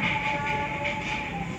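A Red Komodo train passes on the western side of Padalarang station, a loud, steady rumble with a sustained tonal whine, close by.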